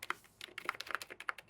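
Quick, light typing on a compact tenkeyless gaming keyboard, a steady patter of crisp key clicks heard close up and fairly quiet.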